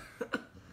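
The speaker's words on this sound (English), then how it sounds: "Daddy's coughing because you made him sick." A man gives two quick coughs close to the microphone, short and dry, with quiet room tone around them.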